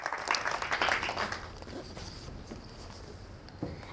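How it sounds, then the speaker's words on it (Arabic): Audience applause for Khadija at a children's Braille Day event, a burst of scattered clapping that fades after a second or two into sparse claps and light room noise. "تصفيقة تصفيقة على خديجة."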